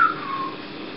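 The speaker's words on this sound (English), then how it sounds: "there's something whistling" A steady high whistle sounds at the start and fades over about half a second, leaving faint background noise.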